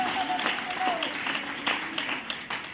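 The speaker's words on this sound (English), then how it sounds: "Shall we clap our hands and to the Lord?" A congregation at a Sunday revival church service claps hands in a steady rhythm, a sustained broadband patter of many palms, with a voice and a sung or spoken tone running over it throughout.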